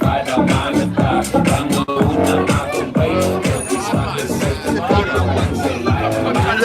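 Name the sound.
crowd of people at a street march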